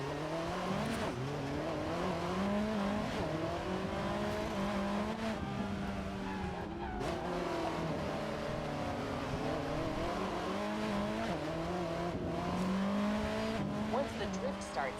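A race car drifts in the Racing Master video game, its engine droning and shifting pitch continuously with tire squeal mixed in, while a voice talks over the game sound.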